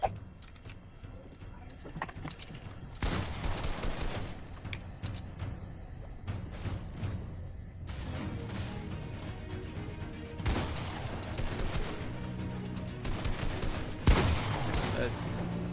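Gunfire in a Fortnite Battle Royale match, including pump shotgun shots: scattered bursts and single cracks at a moderate distance, set under continuous commentary.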